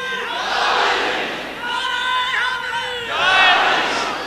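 A crowd chants religious slogans during a recitation of a manqabat for Mawla Ali, voices rising together in loud, swelling shouts that ebb mid-clip and surge again near the end.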